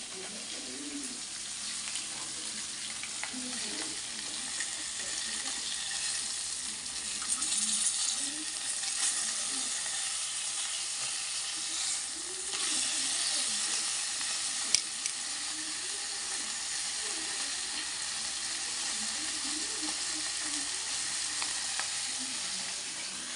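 Fish sizzles and crackles steadily in a frying pan, a constant hiss of hot oil with occasional faint pops and stirring.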